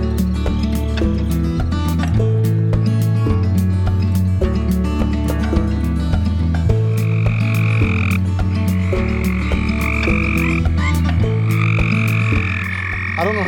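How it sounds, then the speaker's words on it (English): Dense chorus of frogs croaking around a creek water hole after rain, loud and continuous, with deep pulsing croaks overlapping higher trills and clicks, close by and filling the whole scene. "in the background you can hear all these frogs"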